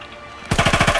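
ZK-383 SMG in Call of Duty WW2 on PS4, set to a slowed rate of fire, opens a loud, close burst of about six rapid, evenly spaced shots after near-silence.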